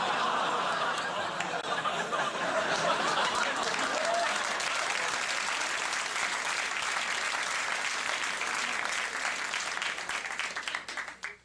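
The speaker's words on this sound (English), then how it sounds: "Gasps of horror and disapproval fading into polite applause." A late-night television studio audience breaks into sustained, polite applause with scattered chuckles, steady and full for several seconds before tapering off at the end.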